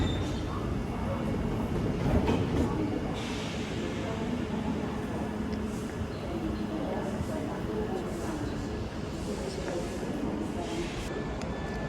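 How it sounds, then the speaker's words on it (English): London Northwestern Railway Class 350 electric train running at a four-platform station, a steady rumbling rail roar with faint clickety-clack that holds for the whole stretch, with a brief swell early on. "London North Western Railway 350s."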